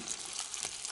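Zucchini rings frying in a pan, giving one second of close, steady hissing sizzle with no breaks.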